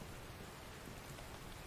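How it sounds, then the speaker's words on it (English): Heavy rain in the survival game The Infected, a steady broadband hiss pouring down without pause, close and continuous with no voices. "The rain is super loud today."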